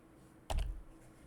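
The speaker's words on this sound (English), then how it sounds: "So what you do is you press the home button on your keyboard." A single press of the Home key on a computer keyboard, one sharp, quiet click at close range, set against faint room hiss.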